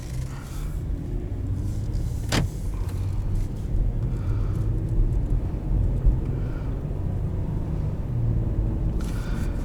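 A 2019 Acura TLX A-Spec with a 3.5 V6 of 290 horsepower and a 9-speed automatic, driven in sport plus mode: a steady low engine and road rumble inside the cabin with one brief sharp click partway through.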